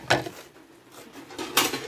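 Plates, pots and utensils clatter in two short bursts during dishwashing with soap, where the rice had dried hard on the plates, with a quieter stretch of scrubbing between.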